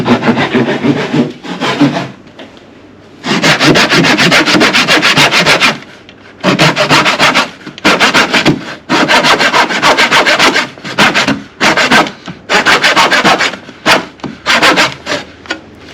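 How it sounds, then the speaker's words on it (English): Handsaw cutting a shallow notch about a centimetre deep in wood, loud and close, with repeated rasping strokes in bursts separated by short pauses. "Cutting the shallow notch. We're just going through about 1 centimetre, right?"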